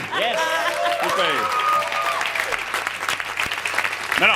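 Audience applause at an audition, a dense wash of clapping hands carrying steadily throughout, with voices talking and calling out over it.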